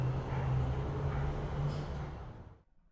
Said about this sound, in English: A speeding car broke me out of my daydream.